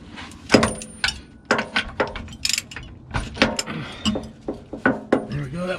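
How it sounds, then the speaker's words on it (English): A ratchet with an axle socket loosens a fill plug on a vehicle's rear gear, producing a string of close, sharp metallic clicks and clanks in an irregular rhythm, with light handling noise between them. "We're gonna loosen the fill plug first."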